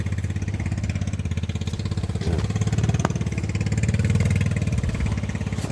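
A boat engine runs steadily on the water near rocky shoreline, a continuous low droning hum that stays loud and even throughout, with no talk over it.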